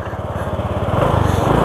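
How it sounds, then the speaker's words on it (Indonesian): Honda Vario 125 scooter engine idling and revving, a loud, close, buzzing putter whose pulse quickens slightly toward the end, with no talk over it. "Kita akan tes ya motornya ya"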